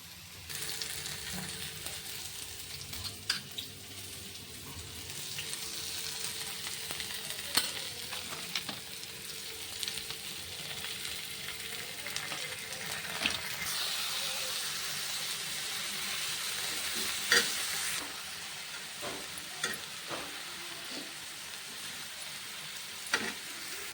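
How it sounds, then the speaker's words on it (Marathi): Onion fries in a pan with a steady, soft sizzle and occasional stirring clinks, heard alone and at moderate distance. "आता पटकन करून घेते भाजायला कांदा"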